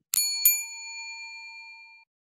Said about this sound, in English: Well, that was the double bell.